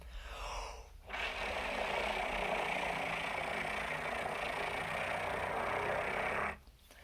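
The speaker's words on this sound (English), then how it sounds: "you can kind of get the pitched air plus flutter tongue thing to happen at the same time" Trombone played with pitched air and flutter tongue, a breathy, rough, fluttering airy tone sustained for several seconds between short pauses at start and end, fairly quiet and alone.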